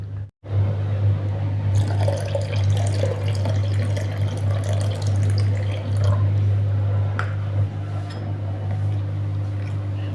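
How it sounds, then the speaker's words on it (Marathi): One bowl of water goes into a sorghum flour batter, a steady close pouring and liquid wash that runs through the whole stretch with a constant low hum beneath, no talking. "यामध्ये आता परत आपण एक वाटी पाणी घालूयात"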